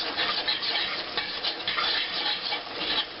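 Spoon stirring Cajun seasoning through a pot of smoked seafood gumbo, a continuous scraping, sloshing churn with a faint sizzle, close and steady for the whole stretch.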